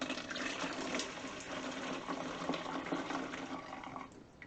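Liquid poured slowly through a funnel into an old rinsed milk jug, a continuous gurgling trickle that runs for several seconds and thins out toward the end, with no talk.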